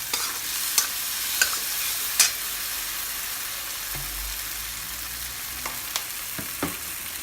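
Spice paste for a Bengali chicken curry frying in a pan, giving a steady close sizzle with scattered stirring scrapes and clicks and no talking.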